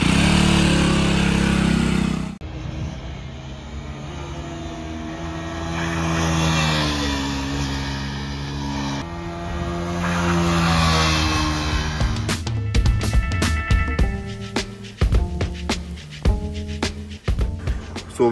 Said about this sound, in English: Dhanil is riding the RC200 right now